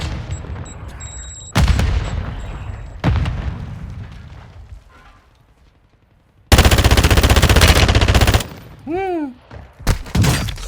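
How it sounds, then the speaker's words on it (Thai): Assault rifle fire in Call of Duty Warzone 2.0 comes as loud, close bursts of rapid shots, including a long sustained volley, with booming impacts between them and a voice speaking briefly. "กล่องกระสุนเรามีเยอะ ยิงไปเลยเพื่อนๆ"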